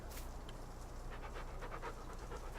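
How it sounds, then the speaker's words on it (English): A dog panting in Farming Simulator 19, a steady quick rhythm of soft breathy pants over continuous game background noise, faint and close with no talk. "alright, so we got a dog."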